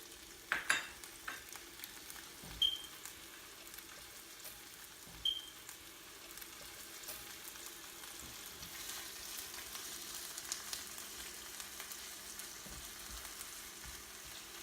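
Spinach frying in a pan for an omelette gives a soft, steady sizzle throughout, with a few louder clanks and stirring knocks, fairly quiet and close.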